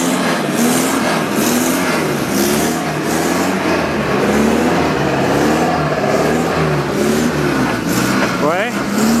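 A car engine runs steadily just after starting on a damp, foggy day, a continuous rumbling drone with slight revving under ongoing conversation.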